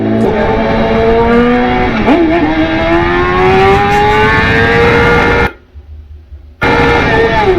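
A BMW S1000 RR motorcycle engine, loud and close, revs with rising pitch through the gears, drops off sharply as the throttle closes for about a second, then pulls hard again.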